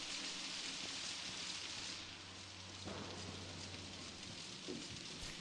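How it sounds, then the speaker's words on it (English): Steady rain hiss fills the scene, a continuous wash of falling drops indoors in the video game Outlast, with a low hum underneath and a faint knock partway through. "It's raining inside."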